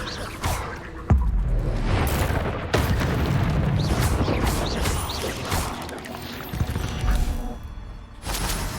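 Hogwarts Legacy Incendio fire spell cast in a game battle: a sudden booming burst near the start, then a dense roaring whoosh of flame and clashing effects, with a second sharp hit midway and a continuous loud rumble throughout.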